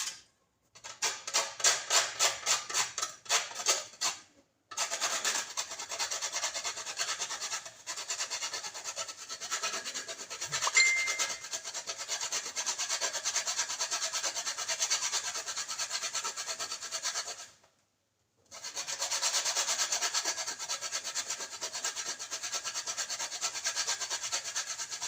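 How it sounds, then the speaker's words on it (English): Nutmeg is grated by hand in a home kitchen: quick rhythmic rasping strokes at first, then long steady scraping runs broken by two short pauses, close and fairly quiet with no talking. "I go grate a piece of nutmeg."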